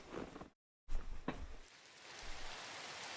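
Rain falls in the Minecraft game world as a continuous soft broadband hiss. It cuts out briefly near the start, then returns and holds steady at moderate loudness, with no talking.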